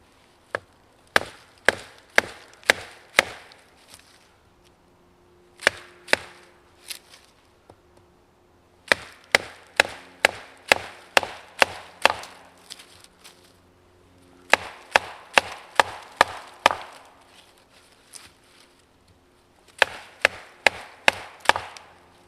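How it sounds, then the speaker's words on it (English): A knife is batoned through a piece of wood, struck with a wooden baton outdoors, producing bursts of sharp, loud wooden knocks in quick rhythmic series separated by short pauses. "Now we're going to actually use this piece of wood as the baton, and we'll cut this piece of wood down here."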